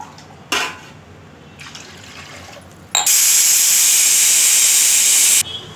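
Two glasses of water poured into a hot cooking pot for radish sambar, bursting into a loud, sustained steaming hiss after a few brief splashes, close up and with no voices.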